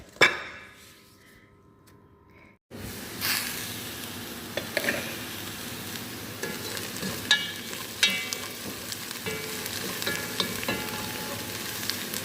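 Onions frying in oil in a pan while preparing Dubai-style chicken maqluba, a steady close sizzle with occasional stirring scrapes and clinks, following a quiet opening moment.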